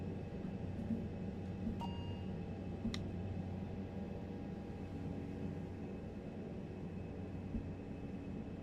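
An ATR 72 turboprop engine starts up in Microsoft Flight Simulator 2020, a steady, moderately loud droning hum with a few sharp cockpit clicks near the start.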